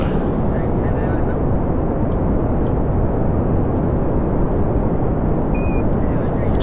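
Rocket engine firing at full throttle in Kerbal Space Program, a loud, steady, unbroken roar with dense low rumble that holds from start to finish with no pause.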